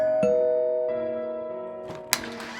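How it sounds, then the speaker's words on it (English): A doorbell rings in a house: several sustained, ringing chime tones sound one after another and slowly decay, ending with a brief clack. "The bell rang."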